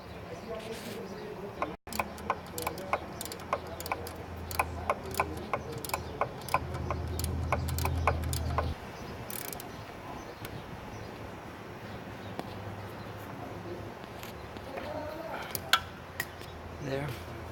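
A 1/2 inch drive ratchet wrench clicks in quick repeated bursts as it loosens a bolt on a Mercury inboard boat engine during impeller replacement. The clicks are close and fairly faint, with a low hum beneath.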